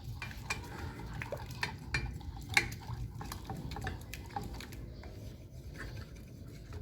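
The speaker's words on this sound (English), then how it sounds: "So you can just always scrape the sides of your pan." A utensil stirs scrambled eggs in a pan and scrapes around its sides, making a close run of soft, irregular scratches and light clinks with no voices.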